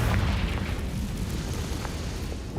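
A Confringo blasting spell explodes in Hogwarts Legacy as a dense, rumbling boom that starts loud and decays into a sustained roar.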